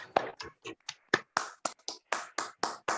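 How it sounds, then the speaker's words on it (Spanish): Scattered hand claps over a video call after a master's thesis defense in theatre, about a dozen sharp, separate bursts spread over three seconds, thin and uneven as several remote participants clap through their own microphones. "pueden activar micrófonos todos y imagen si quieren para darle aplauso a Grisel."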